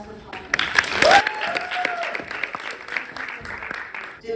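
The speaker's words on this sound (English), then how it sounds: "Let's give a round of applause for Padma." An audience applauds at a fireside chat in Boston with Harvard, a burst of clapping that swells and peaks near the start, then settles into steady clapping mixed with voices.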